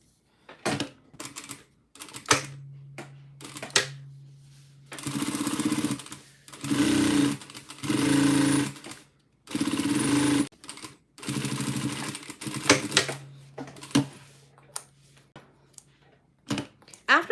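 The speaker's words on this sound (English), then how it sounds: "I'm going to be top stitching this under here" A sewing machine top stitches a bag at long stitch length, running in several fast whirring bursts of a few seconds each, separated by pauses with small clicks and handling noises, close and clear.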